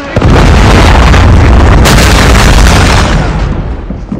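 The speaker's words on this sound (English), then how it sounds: "Predator missile inbound." A predator missile strike in a multiplayer shooter game, a huge loud booming explosion that hits at once and rolls on with a dense low rumble, fading slowly over several seconds with no voices.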